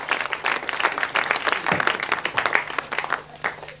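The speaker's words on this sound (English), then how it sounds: "Give her a nice round of applause." Studio audience at a 1993 British television show gives a round of applause: lively, dense clapping with individual claps standing out, fairly close and sustained throughout, with a brief low voice sound partway through.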